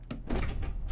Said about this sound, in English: Stand back, I'm barging the door down.